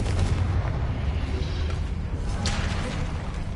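Confringo blasting spell in Hogwarts Legacy, a loud, deep booming burst at the start that decays into a rumbling roar, close and dense with no talking over it.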